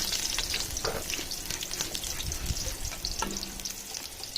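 Chopped onion fries with spices in hot oil for a chicken biryani, a steady close sizzle broken by scraping stirs and occasional clinks of the spoon against the pan.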